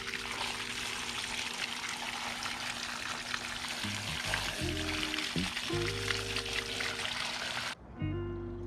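Water streams steadily over a red K&N cotton air intake filter from a COBB intake being rinsed out, a continuous close, loud splashing hiss that breaks off briefly near the end before resuming.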